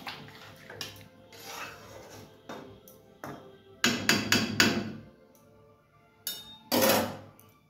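A lid goes onto a metal curry pot on a home stove, giving a series of sharp clanks and rattles in bursts, loud and close, with quieter clinks between them.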